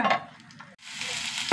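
Seeds spluttering in hot oil as a tempering for a long bean stir-fry: a short, loud burst of crackling hiss that starts partway through and builds at the end.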